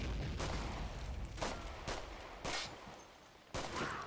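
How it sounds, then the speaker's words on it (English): Machine gun fire in a battle, with several sharp bursts and single reports spaced across the clip, rumbling and reverberant against a noisy background, moderately loud. "that machine gunner is still opening up now to cut down American troops"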